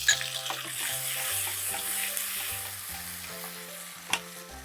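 Tomato and onion sizzle and fry in a pan for dal tadka, a continuous bright crackle with stirring scrapes over a low steady musical background, close and loud, ending with a sharp clatter.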